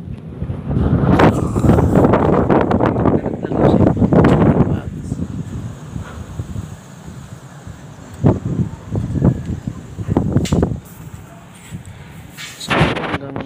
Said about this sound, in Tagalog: So, hanggang hangin lang po, wala na pong ulan.